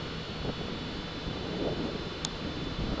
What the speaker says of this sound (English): oh man, that wind's real strong up there.